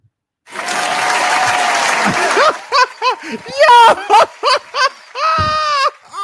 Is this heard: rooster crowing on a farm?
no